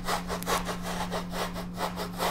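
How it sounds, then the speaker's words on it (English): An onion is rubbed hard against the fine side of a hand grater, producing steady rhythmic rasping strokes, close and loud, about five back-and-forth passes with no talking. "I need my onion. Finely grate this with my grater. On the fine side, very fine."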